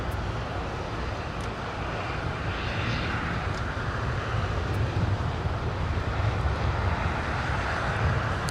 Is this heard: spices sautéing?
no